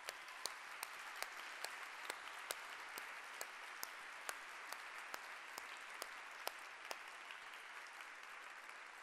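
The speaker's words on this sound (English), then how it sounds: "another round of applause." Audience at a children's peace prize ceremony claps for the Oliver family, a sustained, fairly distant wash of applause with crisp individual claps standing out at a steady pace throughout, no voices over it.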